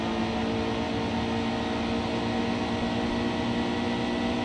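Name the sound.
Xfinity stock car engine at Texas, NASCAR Heat 2 video game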